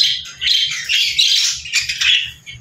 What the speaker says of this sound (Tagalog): Ayan yung ating pair budgie na crested